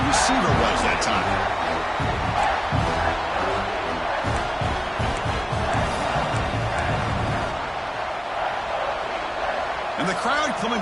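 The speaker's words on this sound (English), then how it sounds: "And the crowd coming to life here" A stadium crowd roars continuously at a live American football game as the defense plays in the red zone, a dense, loud wash of cheering with swelling shouts, under commentator talk.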